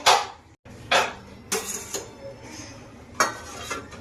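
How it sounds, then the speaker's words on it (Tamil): An inverted plate is tapped to release a set milk sweet, giving several sharp close knocks and clinks of tableware, spaced irregularly with brief rattles between. "ஒரு தட்டை போட்டு நல்லா கவுத்து எடுத்துக்கலாம் தட்டி விடுங்க விழுந்துடும்"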